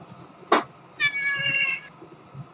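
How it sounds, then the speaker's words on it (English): A pet cat indoors gives a short sharp meow, then a longer drawn-out, slightly whiny meow close by, with quiet room sound around it and no talking. "Fucking cat!"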